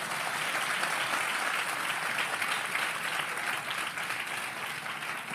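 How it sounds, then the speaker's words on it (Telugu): Audience applause fills a Christian sermon hall, a dense, steady clapping roar that holds at full strength for about five seconds with no voice over it. "కొట్టండి చప్పట్లో."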